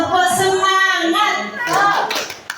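A group of adults doing the rhythmic 'tepuk semangat' clap in a training session, quick patterned hand claps mixed with cheerful voices and a chanted call.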